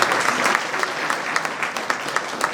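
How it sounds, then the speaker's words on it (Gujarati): Dense, steady applause from a large audience at a Sorathiya Prajapati community mass wedding in Upleta, with a few sharper claps standing out near the listener through the whole stretch. "તો આ તાળીઓ"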